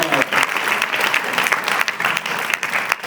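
Steady, dense applause from a group of university students filling a hall, sustained and fairly loud with no break for the whole stretch.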